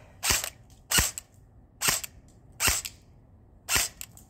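A Gameface RK74 airsoft gun fires five sharp, separate pops at an uneven pace, each a short bright snap, loud and close, with no talking in between.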